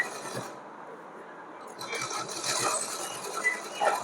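A sewing machine stitches the edge of a small cotton dress for a Laddu Gopal idol, a close rapid mechanical whir in short runs with light clinks, as someone talks between the bursts.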